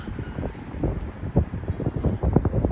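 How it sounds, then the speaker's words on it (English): Gusty wind buffets the microphone on a downtown street walk in Regina in March, a continuous rough low rumble that swells and surges irregularly and stays loud throughout. "At least the wind is behind me."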